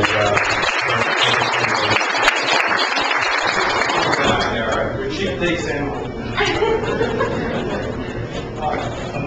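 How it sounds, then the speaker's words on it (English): Audience applause at a business sales meeting, clapping mixed with chatter and chuckles, loud and continuous throughout with voices talking over it. "round of applause for those guys"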